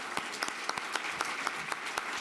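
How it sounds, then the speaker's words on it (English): Audience applause for members of the Congressional Black Caucus at a health leadership awards event, a dense round of clapping with sharp individual claps standing out, steady and fairly loud throughout. "Please give them another round of applause."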